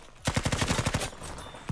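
Rapid automatic gunfire in Battlefield 5 from a medic weapon: a tight burst of about a dozen punchy shots in even rhythm lasting under a second, loud and close, then a brief tail.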